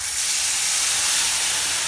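A soaked paste of turmeric, salt, cumin and chilli powder hits a hot pan with a sharp, steady hiss of steam and spitting that holds loud and unbroken for about two seconds.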